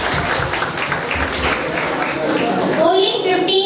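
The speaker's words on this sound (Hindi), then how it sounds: "और पसंद आया है तो जोरदार तालियां हो जाएं उनके लिए" An audience at a school software fair applauds student game makers, a steady patter of many hands clapping with children's voices and chatter mixed through it.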